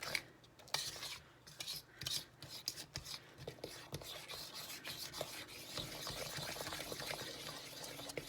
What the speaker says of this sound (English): mix it all up until it is completely mixed